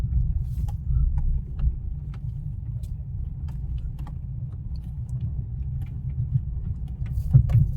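A car engine hums low and steady while it drives slowly in low gear during a driving lesson, a muffled in-cabin rumble with faint clicks and rattles and no talking.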